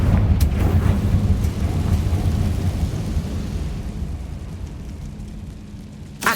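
An explosive spell in the Hogwarts Legacy video game bursts with a loud, deep rumbling blast that rolls on and slowly fades over several seconds, with a sharp crack at the start and another at the end.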